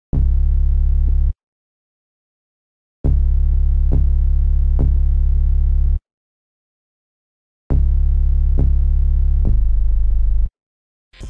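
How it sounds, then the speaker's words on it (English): A distorted Hive synth bass preset, HS Hoomer Plus, plays loud, heavy sustained notes in three separate phrases, each a few seconds long, with sharp silences between them, as part of a dreamy beat. "I'm using this Hive bass called the HS Hoomer Plus"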